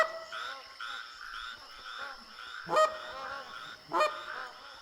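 A flock of geese honks repeatedly in theHunter: Classic, overlapping calls continuing throughout at moderate loudness, with two louder, sharper honks standing out near the middle and end.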